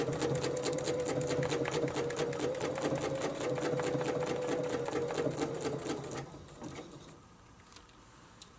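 A sewing machine stitches a quilt seam with a fast, even mechanical chatter up close for about six seconds, then slows and stops into near quiet.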